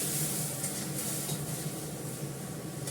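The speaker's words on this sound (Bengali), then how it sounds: "এবার ডালটা ফোড়ন দিয়ে দিলাম" Spices sizzle in hot oil while tempering dal, giving a close, steady, bright hiss with fine crackling, continuous and without voices.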